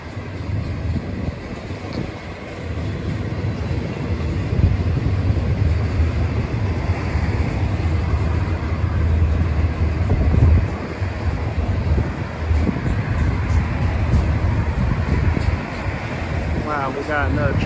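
A Union Pacific stack car freight train passes slowly in Grand Prairie, Texas, a steady loud rumble heavy with wind buffeting the microphone, lasting throughout, while a person talks over it.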